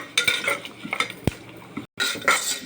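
Fenugreek and coriander seeds are dry-frying in a pan, heard as short close-up bursts of stirring scrapes and light sizzle, with a clink of a utensil and a brief silent gap before the stirring resumes.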